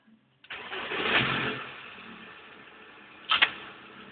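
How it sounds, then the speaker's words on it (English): An LT35 van engine restarts with a sharp crank and catch, then idles with a rough, rattling mechanical hum, a second brief rev near the end, close and moderately loud. "there we go, it's still there, the noise. Rattle, rattle, rattle, rattle."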